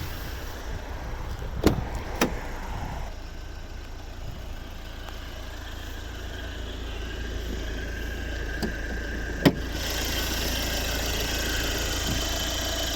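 A 1.6-litre D2 diesel engine in a 2012 Volvo C30 runs steadily at idle, a continuous low rumble with a couple of sharp clicks, brightening into a broader hiss near the end.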